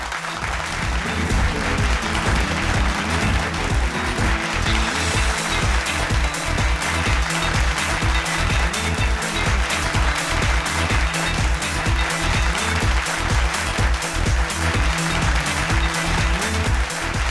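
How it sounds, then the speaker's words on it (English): Loud, steady audience applause at a televised school quiz show as girls from Maliyadeva Girls' College come up for certificates, with music playing throughout and no pauses. "Can we have a big round of applause to the girls from Maliyadeva"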